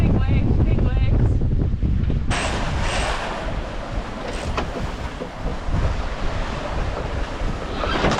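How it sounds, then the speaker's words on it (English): Big ocean waves rush and crash around a sailboat between Grenada and St. Lucia, with heavy wind buffeting the microphone and a voice speaking briefly at the start. "Big waves, big waves, big waves."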